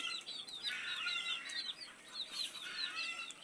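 A desi chicken clucks in quick repeated bursts of short, rhythmic calls, fairly close but soft, with only faint background noise and no talking.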